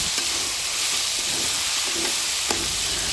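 Chicken and milk powder fry for biryani in a hot pan with a steady, close sizzle, broken by a few scraping stirs of a utensil and no talk.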